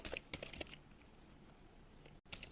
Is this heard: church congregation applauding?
no